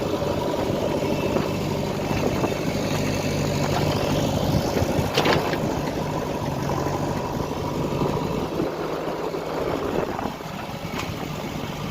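Three-cylinder Sonalika DI 35 tractor idling at a site where soil is loaded into its trolley, a steady close low chugging rumble with occasional clanks and knocks over it, continuous and fairly loud.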